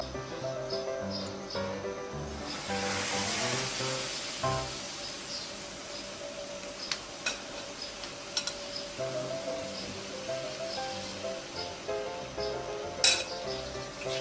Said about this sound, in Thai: เราไปนาบกับกระทะกันนะคะในกระทะนะคะ